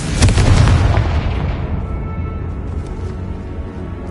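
A spell blast from a wizarding video game detonates loud and close as a heavy boom, its rumble decaying over a few seconds.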